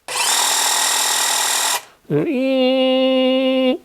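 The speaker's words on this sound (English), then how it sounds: "This one has more smooth kind of a noise, like a motor noise." A cordless hedge trimmer's small electric motor whirs steadily, cuts out briefly, then spins back up with a smooth, even hum, close and loud.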